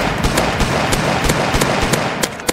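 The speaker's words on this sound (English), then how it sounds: "I'm using normal deagle. Yep, just shoot him from here." Rapid Desert Eagle pistol shots crack in the Roblox game A Dusty Trip, a dozen or so sharp bursts fired at an uneven pace over a busy, noisy game background, loud and close, with no talking.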